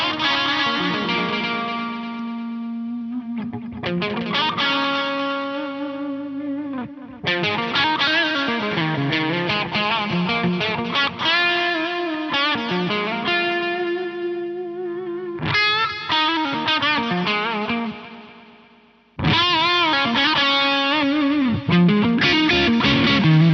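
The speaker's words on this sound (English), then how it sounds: "Reiterate, that's digital distortion." Electric guitar played through the Korg A3's built-in digital distortion, sustained crunchy chords and melodic lines with chorus-like shimmer, loud and continuous with a brief fade before resuming.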